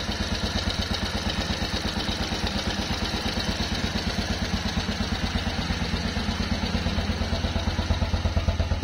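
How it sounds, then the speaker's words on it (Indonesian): A 1956 BMW R26 motorcycle engine idles steadily, its even low pulsing throb close and continuous with no other sounds. "Nah, ini suara mesinnya."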